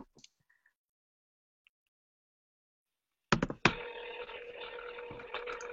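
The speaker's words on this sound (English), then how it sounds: "Let me actually call you from your cell phone, and I'll put you on speaker" A cell phone dialing: a few faint tones and taps, a pause, then a sudden burst of clicks followed by a steady tonal ring or line sound that holds to the end.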